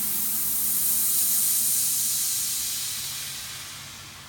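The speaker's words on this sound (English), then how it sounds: "If I turn the pressure all the way down, I can spray it out until it stops." A paint sprayer gun blasts water in a steady, loud hiss as the pressure is turned all the way down, the spray swelling and then slowly tapering off as the hose empties.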